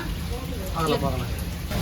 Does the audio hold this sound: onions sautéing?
no